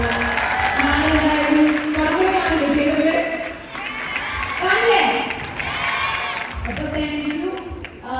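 A college audience claps and cheers loudly and continuously at a student event with actress Anaswara, with shouting voices rising and falling through the applause.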